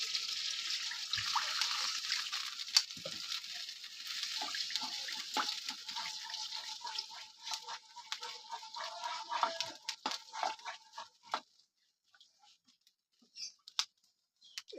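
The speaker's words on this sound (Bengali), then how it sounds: "চলো এবার আমি জলটা দিয়ে দিই।" Water poured into a pan while cooking shukto, a Bengali vegetable dish: a close, continuous splashing rush mixed with light clicks and sizzle that thins out and stops near the end, leaving sparse small taps.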